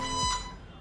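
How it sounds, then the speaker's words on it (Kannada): A computer beeps once through the NVDA screen reader as a remote access connection is set up between an Acer laptop and a Lenovo laptop, a single short tonal beep that fades quickly. "ನಿಮಗೆ ಮತ್ತೊಮ್ಮೆ ಬೀಪ್ ಸೌಂಡ್ ಕೇಳಿರ್ಬೋದು."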